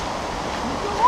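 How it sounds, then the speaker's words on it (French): A river spilling out of a mountain torrent in winter rushes with a steady, close, broadband roar of water that never lets up. "Nous avons à notre gauche la rivière qui s'est échappée du torrent"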